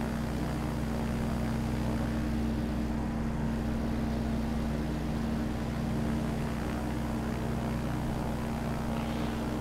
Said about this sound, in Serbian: Lepo leti ovaj aviončić.